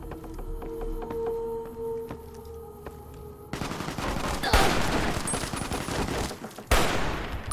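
Rapid gunfire bursts from a weapon in Fallout New Vegas open after a quieter stretch of game ambience, with sharp shot cracks dense through the second half.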